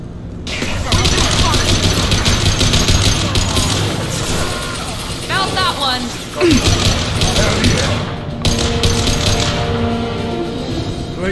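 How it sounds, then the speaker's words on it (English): Blue Suns mercenaries and Vorcha trade gunfire in the sci-fi shooter Mass Effect 2: loud, dense bursts of shots and impacts crackle almost continuously, with a brief lull midway and game voices mixed in. "Blue suns and Vorcha shooting anything that moves."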